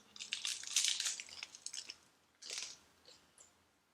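Bites and chewing into a crunchy chicken caprese panini with cherry tomato and melted cheese, close crisp crunches in two main bursts followed by quieter chewing.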